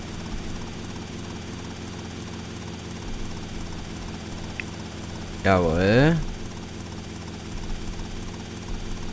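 Helicopter flying in GTA Vice City, a steady rotor and engine drone running throughout, with someone speaking briefly partway through.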